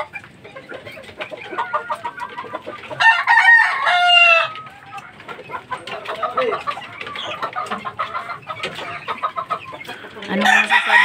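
A young fighting-cock stag crows loudly in a couple of strained bursts, with clucks and softer calls from nearby fowl scattered between them.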